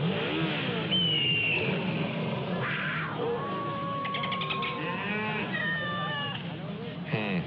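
Voices imitate a revving motorcycle engine on a radio show with rising and falling vocal vroom sounds, continuous and close, layered with bleating-like vocal noises.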